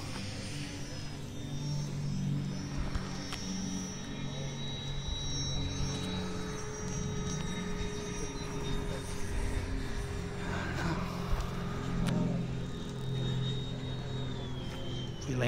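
A model airplane comes in to land at Hilton field with its gear down and power still on, a steady engine drone heard at a distance under light chatter from onlookers.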